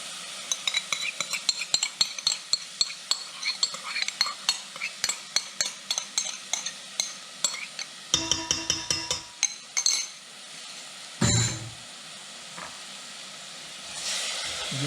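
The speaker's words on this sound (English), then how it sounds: "Give that a good stir." A spoon scrapes and clinks steadily in a pot while tomato sauce is stirred into a curried lentil and coconut soup. The rhythmic taps repeat over a low hiss of simmering, with a few louder knocks near the end.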